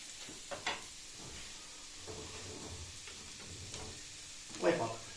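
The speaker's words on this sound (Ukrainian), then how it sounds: "Поки жариться у нас цибуля" Onion sizzling in a frying pan, a soft steady fry broken by a few brief clinks of stirring, with a louder scrape near the end.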